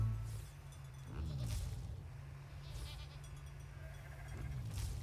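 Goats bleat in Farm Together 2, several wavering calls spaced across the stretch, moderately loud over a low steady farm ambience with no talk.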